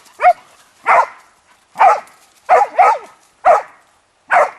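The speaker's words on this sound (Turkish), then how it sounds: "Havadan çekiyor köpekler. Bak aşağıdan geliyor." Hunting dogs on a wild boar hunt bark in a rapid series of sharp, loud yelps, about seven bursts spaced unevenly, close by with no talking.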